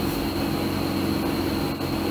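A motorcycle with a pistonless Wankel rotary engine running at a steady idle, giving a continuous loud drone and hum with no break throughout.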